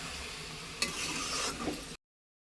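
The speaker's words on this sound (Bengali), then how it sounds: "আর এখানে দেখুন এটা ফুটছে, চিনির রসে আমটা পেকে যাবে" Mango pieces simmering in bubbling sugar syrup while being stirred, a soft steady bubbling hiss with a couple of brief scraping stir strokes over about two seconds, no talk.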